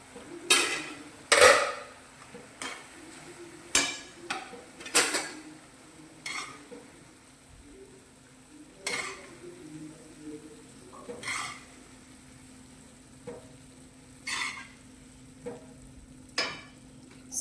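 Cooked homemade vermicelli scooped from a pan onto a plate, with sharp, irregular metallic scrapes and clinks of a spoon against the pan, spaced out over a quiet background hum.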